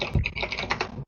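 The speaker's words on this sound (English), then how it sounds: "Nice mechanical keyboard." Quick keystrokes on a mechanical keyboard clatter close by in a short, uneven burst of sharp clicks, ending abruptly.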